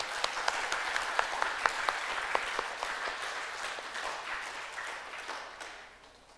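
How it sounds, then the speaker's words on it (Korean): A church congregation claps in welcome for a newly registered member during a Sunday Anglican Eucharist service, a lively burst of many hands with sharp individual claps early on, tapering off and fading toward the end. "환영의 박수로 부탁드리겠습니다"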